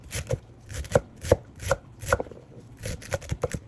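Knife slicing celery thinly on a cutting board for a celery and cucumber salad, a steady series of crisp close chops, about ten cuts in under four seconds, with no voices.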